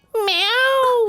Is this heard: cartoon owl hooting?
no